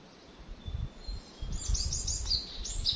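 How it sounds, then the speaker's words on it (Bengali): Faint, high chirping bird calls in the Sundarbans mangrove jungle, a short run of quick repeated notes in the second half over a low rumbling background. "জঙ্গলে পাখি ঠিকই ডাকে"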